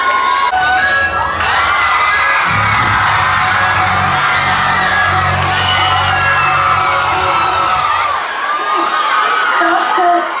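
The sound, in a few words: audience clapping and cheering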